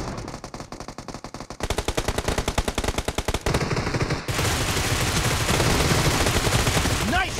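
Video game gunfire rattles in rapid machine-gun bursts, first in sharp evenly spaced shots, then in a dense, continuous barrage of fire and explosions, loud and close.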